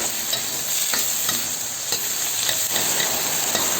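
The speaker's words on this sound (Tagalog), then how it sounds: "Lutuin lang natin ang lemongrass." Lemongrass sizzles in a hot pan while being cooked for a mussel dish, a constant bright frying hiss with occasional soft stirring scrapes, close and steady with no talking.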